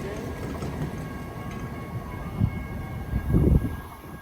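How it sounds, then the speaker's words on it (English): Caltrain train 712 rolls away from Redwood City station toward San Jose, a low, moderately quiet rumble with a few heavier thumps toward the end before it fades. "there goes 712 on its way to San Jose Dearden"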